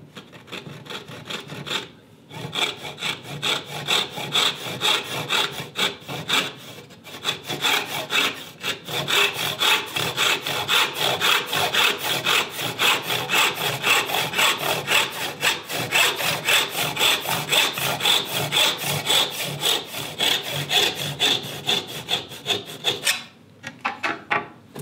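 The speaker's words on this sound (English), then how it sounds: "I don't have enough length on my tenon saw to go all the way." A tenon saw cuts through wood clamped in a vise, rasping in a steady rhythm of close, even back-and-forth strokes for over twenty seconds, with a brief pause near the start.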